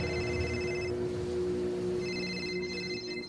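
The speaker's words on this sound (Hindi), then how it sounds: "उसी समय अमन का फोन बज पड़ा" A mobile phone rings in a quiet setting, giving a faint, steady electronic tone that cuts out briefly and then resumes over a low background hum.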